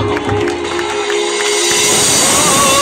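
Church congregation clapping along during a sermon at Reddypalem, a dense, steady wash of hand claps and crowd noise that grows fuller after the first second and a half, with music tones underneath.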